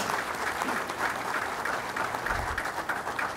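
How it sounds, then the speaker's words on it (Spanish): An audience at a digital transformation in industry presentation gives a strong, dense round of applause for Thorsten Körner, sustained and even throughout with a low thump near the middle. "Les pido un fuerte aplauso, por favor, para él, para vos."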